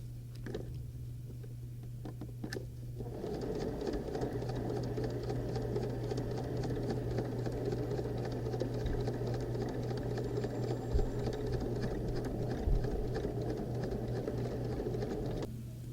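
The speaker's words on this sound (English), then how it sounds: "just stitched into place on the front and the back of the bag" A sewing machine stitches a fabric tote bag, running in a steady, continuous whir after a few seconds of quiet handling, close and alone at a constant pace to the end.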